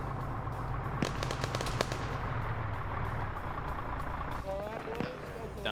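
Gunfire in a video game trench warfare operation: rapid, crackling volleys of distant shots burst in quick succession, then scattered pops follow over a steady low rumble, with faint murmuring voices underneath.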